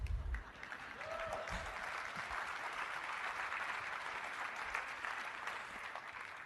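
A large audience at the Adobe MAX 2017 conference bursts into applause, a sustained, even roar of many clapping hands lasting over six seconds, heard from within the hall with a brief voice near the start.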